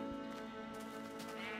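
A sheep in a modded Minecraft game (Industrial Craft 2) bleats once in a sustained, wavering call, faint and somewhat distant, with no talk.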